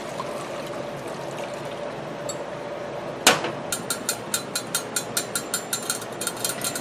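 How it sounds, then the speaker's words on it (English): Water poured into the bottom of a pot used to steam sweet potatoes in a home kitchen: a sharp splash-onset, then a steady run of rhythmic, evenly spaced trickling pulses, close and moderately loud. "So I'm just going to put some water in the bottom of this pot."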